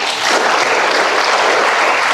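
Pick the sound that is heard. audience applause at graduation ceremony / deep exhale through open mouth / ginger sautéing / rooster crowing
audience applause at graduation ceremony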